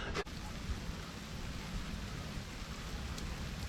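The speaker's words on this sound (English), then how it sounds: "It's absolutely belting it down with rain" Heavy rain pours down in Jodhpur, India, heard from under shelter as a loud, unbroken roaring hiss that fills the scene, with a brief knock near the start and no talk.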